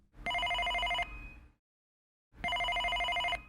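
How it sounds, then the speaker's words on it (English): A telephone bell rings twice, each loud metallic trill lasting about a second and followed by a short fading tail, with a silent pause between the two rings. "She was interrupted by the phone."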